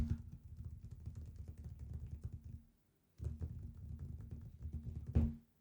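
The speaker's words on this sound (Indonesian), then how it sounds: "kalau saya ketok-ketok meja." A hand knocks and taps on a table close to a condenser microphone, making rapid, low, soft thumps in two bursts separated by a short silence, with a slightly firmer knock near the end.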